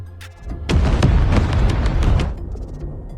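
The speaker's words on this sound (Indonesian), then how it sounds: "Di sini Marcus menghukum Winston dengan cara meledakkan Hotel Continental." The Hotel Continental blowing up in the film John Wick 4: a single loud, close explosion boom that swells and rumbles for about two seconds before fading into a low tail.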